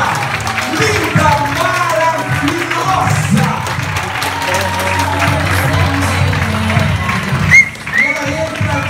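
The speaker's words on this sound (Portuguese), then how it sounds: "Muito mais palmas." An audience at an evening pageant-style show claps and cheers for a former contest winner as she walks out, applause running steadily under a presenter talking over it in Portuguese.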